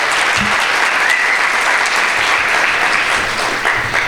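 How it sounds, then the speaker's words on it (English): A university audience at a spring State of the University address claps for a staff member, a sustained even roar of applause with no pauses, loud and close. "Please give Brooke a round of applause."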